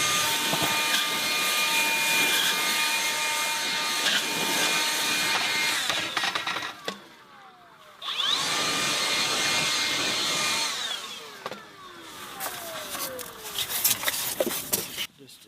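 Saw cutting through a Nudura ICF foam block on a barn home build, a steady loud rasping buzz with a brief pause midway before the cut resumes, close by.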